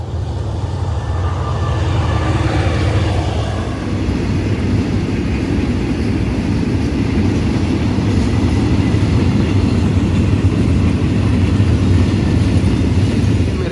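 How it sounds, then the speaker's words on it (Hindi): A train rolls past in the background near the Grand Canyon Chonburi in Thailand, a loud, continuous low rumble and rattle that holds steady throughout without any voices. "पीछे ट्रेन जा रही थी।"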